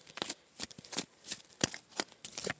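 Tarot cards being shuffled by hand in a quiet room, a run of soft, irregular riffles and slaps close to the listener, with no talking.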